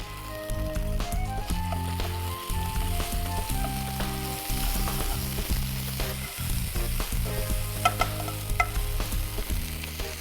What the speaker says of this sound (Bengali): রসুন বাটা আধা চা চামচ, কাঁচা মরিচ বাটা 1 চা চামচ। এটাকে হালকা একটু ভেজে নেব ঘিটার মধ্যে।